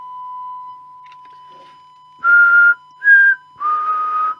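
Someone whistles into the microphone of a 1990 Midland 77-1165 CB radio: three short, clear whistle bursts over a steady, continuous test tone, close and loud.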